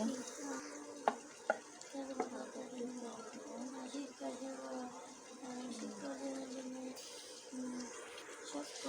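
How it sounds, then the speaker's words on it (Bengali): Beef is mixed by hand with spices and oil, giving quiet, soft squelching and stirring sounds with a few light clicks, while a voice talks over it. "অল্প একটু দিয়ে দিলাম কেটে সবগুলো আমি মাখিয়ে নেব সাথে একটু তেলও দিব"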